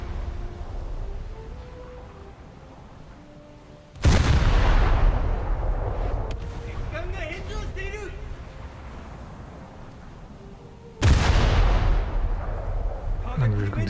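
Heavy naval guns fire in a warship battle game, two loud booming salvos with long rumbling decays spaced several seconds apart, with a quieter stretch of distant shelling and game effects between them.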